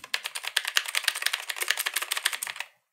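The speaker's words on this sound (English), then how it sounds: "It comes with nice blue switches and a 96 key layout that saves space, but acts like a full keyboard and keeps all the same functions." Rapid, close typing on a mechanical keyboard with blue switches and a 96-key layout: about twenty crisp, clicky keystrokes in a quick, uneven run that stops abruptly.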